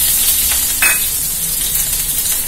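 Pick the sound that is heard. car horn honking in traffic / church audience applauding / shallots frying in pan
shallots frying in pan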